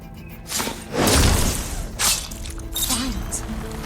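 Crumbling, crunching thuds and debris falling as overgrown vines break apart in Horizon Forbidden West, several heavy bursts close by mixed with game sound and a voice speaking.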